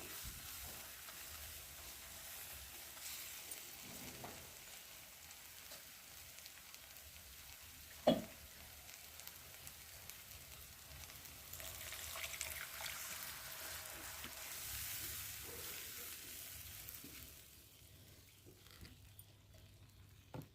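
Water poured into a sizzling curry in a pan, a quiet frying hiss that swells as liquid goes in, with a sharp clink near the middle and stirring sounds, then the sizzle dies down toward the end.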